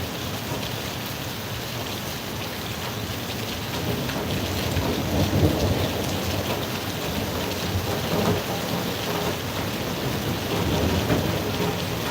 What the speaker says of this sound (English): I summoned this rain